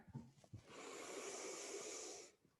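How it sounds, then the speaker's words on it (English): A single slow, deep inhale during a yoga class, a close, airy hiss through the nose that swells and holds for nearly two seconds before fading, preceded by a couple of soft sniffs. "Breathing in."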